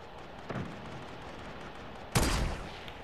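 Gunfire in an online shooter game, two sharp shots, a faint one early and a louder, closer blast with a short decaying tail, over quiet background hiss.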